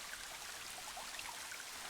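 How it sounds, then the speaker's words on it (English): Water running down a mountainside in the god game Plentiful, a soft, steady trickling and babbling stream heard faintly and continuously with no voices. "water running down the side of the mountain"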